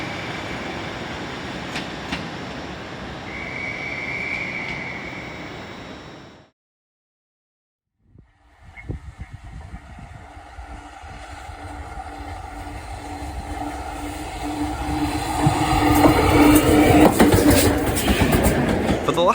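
A train on the Grosmont heritage railway, steam or diesel, rumbles past with wheel clatter that builds louder toward the end after a brief silent gap, with some voices mixed in.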